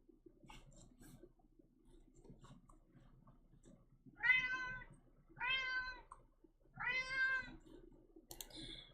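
A house cat meows three times in a row, drawn-out and moderately loud, after a quiet stretch of faint clicking and room noise, then a brief rustle at the end.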